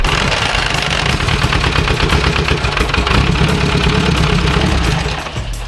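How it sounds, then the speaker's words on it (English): A vintage upside-down four-cylinder engine runs steadily and loudly close by, its dense, even firing holding throughout before easing slightly at the very end, with no voices. "the upside down 4 started and ran."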